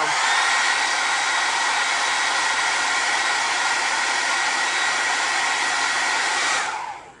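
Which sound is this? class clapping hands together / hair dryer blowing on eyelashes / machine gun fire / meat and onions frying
hair dryer blowing on eyelashes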